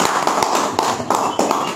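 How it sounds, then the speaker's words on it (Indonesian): Church congregation clapping in praise to Jesus during a sermon, a dense burst of many hands with rhythmic accents, loud and close, with no clear voices. "Tepuk tangan bagi Yesus kita"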